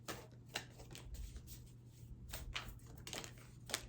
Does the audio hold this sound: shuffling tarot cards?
yes